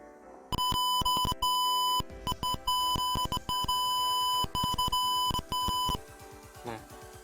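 Electronic buzzer of an ultrasonic intruder alarm circuit in a Proteus simulation, sounding as a loud steady beeping tone broken into repeated bursts with short gaps, then stopping near the end.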